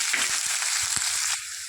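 Onions frying in hot oil, tempered with cumin and dried red chillies, for an egg tomato curry: a steady crackling sizzle, close and even throughout, with a few soft knocks under it.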